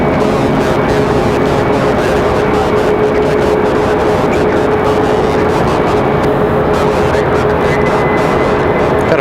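An Endeavor CRJ regional jet departs Raleigh Durham airport, its engines a loud, continuous roar with a steady whine that fills the whole stretch and never fades.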